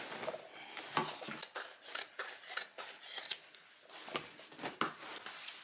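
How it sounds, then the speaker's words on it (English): Scissors cut through thick denim, chopping the legs off a pair of jeans: close, repeated crunchy snips and rasping fabric tearing in an uneven rhythm, with brief pauses between cuts. "I'll cut the legs off this one too."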